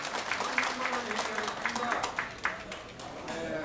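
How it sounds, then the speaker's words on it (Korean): Guests at a Korean Noh clan central association's 60th anniversary ceremony give a steady wash of welcoming applause. A speaking voice runs over it while the clapping stays moderate and continuous. "더 큰 박수로 환영해 주시기 바랍니다"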